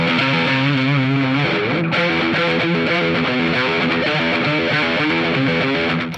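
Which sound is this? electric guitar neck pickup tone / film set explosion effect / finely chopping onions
electric guitar neck pickup tone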